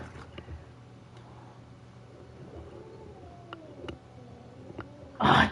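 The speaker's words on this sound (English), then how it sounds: "My cat's picking a fight." A cat picking a fight gives out drawn-out, wavering meows and low howls over a quiet background, with scattered clicks and a sudden loud burst of scuffling at the very end.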